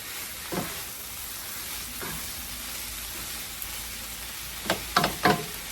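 Vegetables including cabbage fry in a pan for pancit sotanghon, a steady close sizzle broken by a few sharp bursts of stirring near the end.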